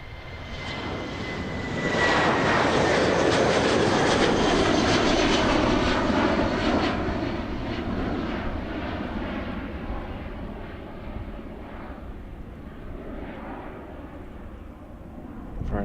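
Lufthansa airliner engines roar loudly at Amsterdam airport, a broad jet rush swelling near the start, peaking close by, then slowly fading as the aircraft moves away.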